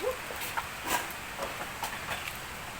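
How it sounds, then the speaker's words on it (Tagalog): Steady, hissing rain falls with scattered louder patters and drips, a soft broadband wash with no voices. "may ulan na gyaw"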